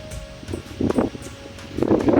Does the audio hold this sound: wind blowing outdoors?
yes